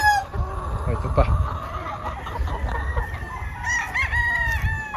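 Early bird pullets and bullstags in a gamefowl flock crowing and clucking, several roosters calling in overlapping bursts near and far, with someone talking at times over the birds.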